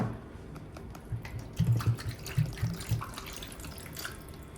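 Nutrient water is poured into a flower pot, producing a low, gurgling trickle of liquid with a few splashing bursts in the middle. The pour is near and moderately loud, and no one speaks over it.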